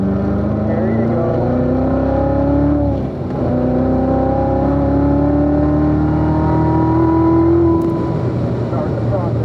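A Chevrolet Corvette Z06 drives hard on a race track during a driving school session, its engine droning loudly and climbing in pitch through the gears, with a brief dip at a shift and a steady roar throughout.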